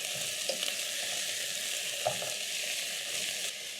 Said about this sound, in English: Using a spatula, you're going to break down the minced meat as it's cooking.